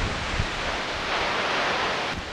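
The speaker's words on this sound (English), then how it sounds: "But there's Comet Falls. They're very tall, very loud." Comet Falls, a very tall waterfall at Mount Rainier swollen by heavy early-season snowmelt, gives a steady, loud broadband roar that runs unbroken throughout with no voices.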